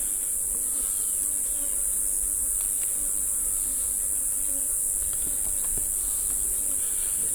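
Honey bees buzz steadily in a dense, continuous drone around an opened hive being split, close and constant throughout with faint rustling of frames underneath.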